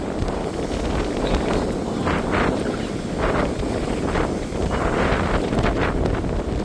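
Strong headwind roars steadily across the microphone of a cyclist riding an electric bike in Kadıköy, buffeting loudly with gusty surges and no talking.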